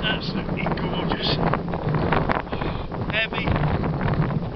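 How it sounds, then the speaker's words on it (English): Gusty wind buffets the microphone beside East Lake in Ohio during carp and catfish fishing, a steady low rumble under nearby conversation. "so far it's very windy"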